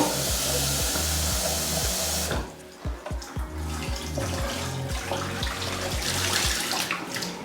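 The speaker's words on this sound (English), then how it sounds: "so give it a rinse a couple of times, run it through the spout too" Tap water gushes loudly into and through a kettle being rinsed after descaling, a close, continuous splashing flow with some knocks and rhythmic thumps of the kettle being handled; no one speaks.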